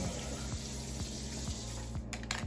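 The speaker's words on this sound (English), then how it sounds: "I'm gonna put a little bit more water in here" Water running steadily from a tap into a bowl holding a big cabbage for making kimchi, a continuous close splashing fill with a few faint knocks.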